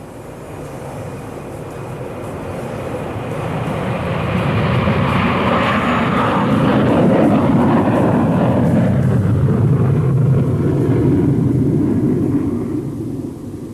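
A steady, loud broadband rumble fills the cabin of a Concorde airliner in flight, its engines swelling to a heavier roar midway and then easing slightly, with no voices over it.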